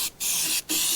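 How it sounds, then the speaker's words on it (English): A steady, close hiss of an aerosol spray of primer surfacer onto a fiberglass trunk lid, cut by two short pauses before spraying resumes. "Spraying some of this primer surfacer on."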